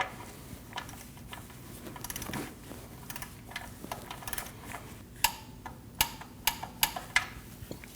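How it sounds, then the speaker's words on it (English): A torque wrench tightens the oil drain plug under a 2012-2021 Nissan NV2500 5.6L V8, a series of faint ratcheting ticks that grow into sharper, louder clicks near the end. "Your oil drain plug gets torqued down to 25 foot-pounds."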